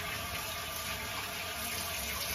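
Hot water runs steadily from a tap into a sink, a continuous close hiss and splash lasting a couple of seconds with no voices.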